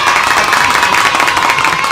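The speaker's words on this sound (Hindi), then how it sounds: "तालियां सागर के लिए" Brief burst of indoor applause from a small group, dense steady clapping close and loud.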